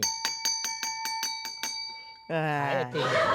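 A bright bell dings about eight times in a quick, even series, then a voice begins speaking.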